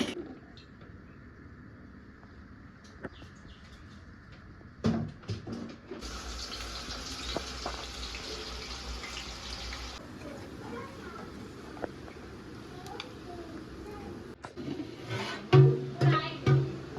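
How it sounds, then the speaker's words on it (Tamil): A kitchen tap runs steadily into a cooking vessel, a continuous hiss of filling water with clinks and handling noises, while people speak nearby and birds call faintly. "இந்த பாத்திரம் ஃபுல்லாக தண்ணி பிடிச்சி வச்சுக்கிறேன்"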